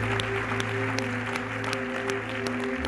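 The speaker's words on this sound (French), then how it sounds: "Acclamons le Seigneur pour sa vie, son ministère." A church congregation applauds together in a steady, close wash of clapping that carries through the whole moment, with a low sustained hum underneath.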